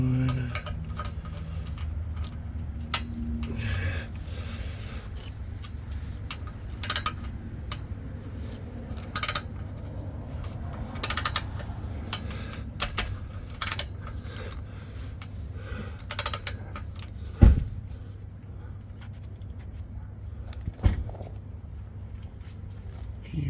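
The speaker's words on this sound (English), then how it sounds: "Can you see what I'm wrenching on?" A hand wrench ratchets in short clicking bursts at intervals, with a few sharper metallic clanks, during subframe removal on a 2011 BMW 528i F10 with a 3.0L engine, over a low steady background hum.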